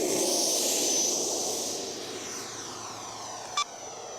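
An FMS Avanti S 90mm EDF RC jet at full throttle gives a steady, loud, broad whooshing roar that eases slightly as it goes, with a brief sharp click near the end and no voices.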